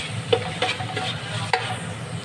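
Chopped onions frying in a pan for sambusa filling, a steady close sizzle with several scraping stirs of a utensil against the pan, no voices.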